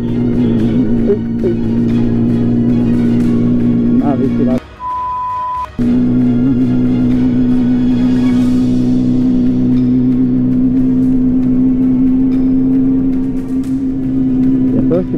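A car's engine drones steadily from inside the cabin over a long stretch with a constant low hum and road rumble, briefly dipping once, with people talking now and then.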